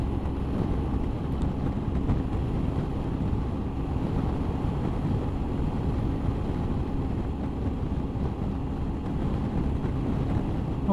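A Honda ST1100 motorcycle cruises at speed with an aftermarket screen fitted, a steady, unstressed engine drone blended with heavy wind rush, loud and continuous throughout with no talking.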